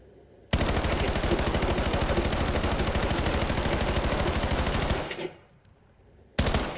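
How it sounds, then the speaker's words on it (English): Sustained automatic gunfire at a Black Ops firing range, a dense rapid burst lasting several seconds, loud and close, then a brief pause before another burst begins. "let's go down this one and shoot rounds into it"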